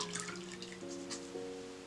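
Water dripping and sloshing in a bowl of hot water as a washcloth is used on the face, close and soft, with small splashes and trickles throughout an Edwardian-style washing routine.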